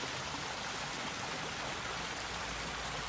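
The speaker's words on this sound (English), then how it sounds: "there's the view of the waterfall from the top" Kemback falls waterfall and stream in Scotland give a loud, steady broadband rush of falling and flowing water that fills the whole stretch without a break, with no voices.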